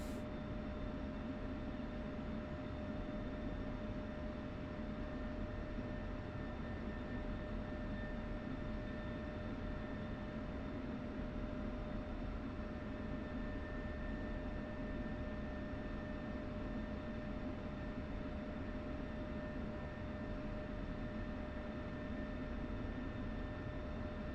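An F-16 jet taxiing in the DCS flight simulator, a steady engine whine and broadband rumble holding constant and moderately quiet throughout, with no talk.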